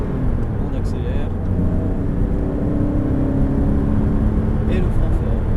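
A car engine drones steadily under heavy rumble, the roar building as it accelerates through the gears on a race track, with road and wind noise throughout.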